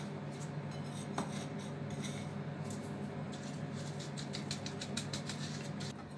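Light, rapid tapping on a parchment-lined cake tin to spread breadcrumbs: a quick run of small clicky knocks, faint against a constant low hum.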